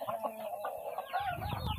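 Hens cluck in a coop, with a quick run of short, close clucks and squawks followed by a drawn-out call, alone and fairly quiet.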